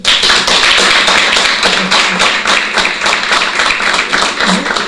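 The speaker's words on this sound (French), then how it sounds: "Si c'est le cas, applaudissez pour vous-même." A studio audience at a French-language talk show claps loudly and briskly in a dense, close burst that holds steady for several seconds with no talking.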